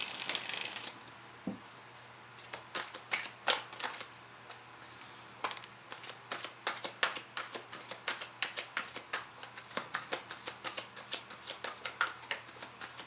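Tarot cards being shuffled, a long run of quick crisp riffling bursts in a steady rhythm, close and clear with no talking.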